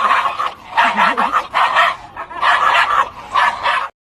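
Two small dogs held in their owners' laps snarl and bark at each other in close, loud, rapid bursts with yips and whines, stopping abruptly at the end.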